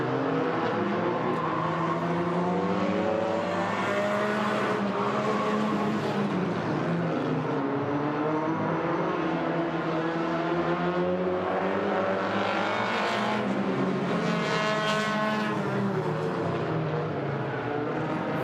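Race cars in an enduro on the Agassiz Speedway road course in British Columbia sweep through corners, with engines droning and rising and falling in pitch as they pass, a continuous layered roar.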